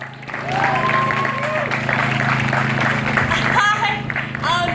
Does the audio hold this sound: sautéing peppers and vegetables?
no